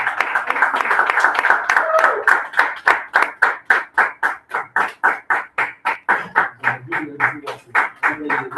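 An audience welcomes a speaker at an expert conference session, first with scattered applause and then with a loud, steady rhythmic clap in unison, each beat sharp and evenly spaced.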